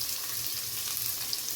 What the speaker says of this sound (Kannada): ಒಂದು 3 ಸ್ಪೂನು ಆಯಿಲ್ ಹಾಕ್ಕೊಂಡು ಸ್ವಲ್ಪ ಸಾಸಿವೆ ಹಾಕ್ಕೊಂಡು ಈರುಳ್ಳಿ ಹಾಕ್ತಾಯಿದ್ದೀನಿ.